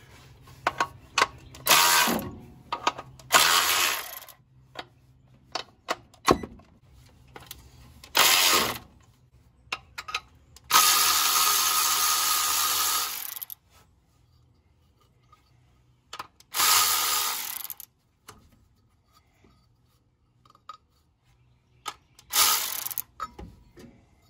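A pulley puller is ratcheted to draw the pulley off the power steering pump on a 1977 Ford truck, heard as bursts of clicking pawl action and grinding mechanism, separated by quiet gaps.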